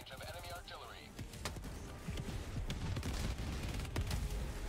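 Scattered bursts of game gunfire and explosive shots from a Helldivers 2 battle, with irregular cracks and booms building over a dense background, under ongoing talk.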